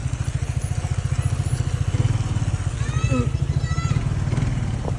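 A large motorcycle rides slowly over a rough, uneven road in Cavite. Its engine chugs steadily and loudly up close, with rattling clatter over the bumps.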